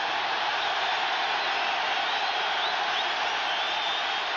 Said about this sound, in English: Crowd is deafening already.